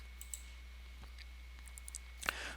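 A few soft, close computer mouse clicks, isolated taps over a steady low hum with no talk.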